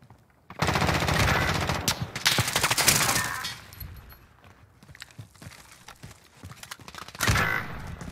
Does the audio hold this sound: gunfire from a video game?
yes